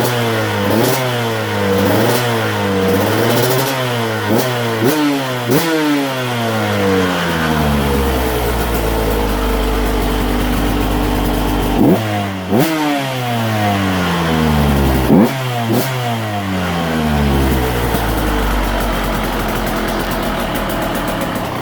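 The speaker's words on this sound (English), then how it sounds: "let's give her a couple good blips and rev her out and make sure the power valve is allowing her to rev up" A KTM 150SX/125SX two-stroke dirt bike engine, freshly rebuilt with a new crankshaft and piston, is blipped repeatedly, rising and falling in quick revs, then held in longer climbs before dropping back toward idle, loud and close.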